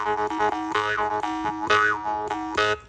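A jaw harp with its trigger bent inward twangs in a steady rhythmic pattern, its buzzing drone punctuated by bright, rising overtone swells every second or so.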